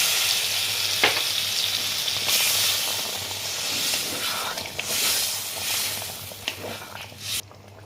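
Pointed gourd frying with spices in a pan sizzles and hisses steadily after water is poured in, a continuous close bubbling with a few soft stirring clicks and a low steady hum underneath.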